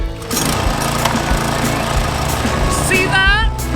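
A petrol lawn mower with a manual choke starts on a single pull, its engine catching at once and running loud and close in a rough, steady drone, with a voice briefly near the end.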